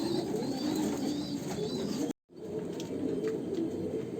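Pigeons coo steadily on a rooftop before being released, a soft continuous murmur of overlapping coos close by, broken by a brief silent gap midway.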